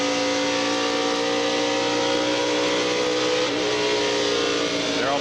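NASCAR Winston Cup stock cars racing in the 1994 Brickyard 400, a loud, steady engine roar with engines dropping in pitch as cars pass, under a commentator's voice.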